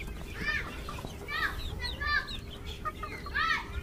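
Native backyard chickens, three months old and kept in a cage, give repeated short clucks and calls in several bursts, fairly close, over a faint background of noise.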